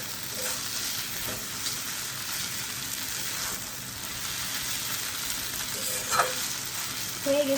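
Simple noodles with a spoonful of sauce stirred in a hot pan: a constant soft sizzle with light scrapes and a couple of utensil clinks near the end.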